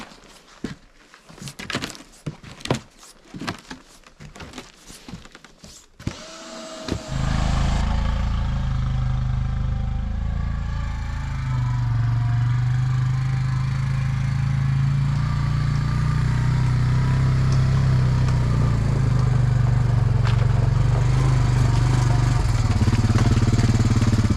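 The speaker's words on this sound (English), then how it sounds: "Little chainsaw, little spare slabs." A few sputtering pulls, then a small chainsaw engine catches and runs steadily, loud and close, its buzzing drone continuing without a break.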